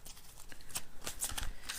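Tarot of the Night deck cards being shuffled, a steady run of crisp riffling and slapping flutters close by with no talk.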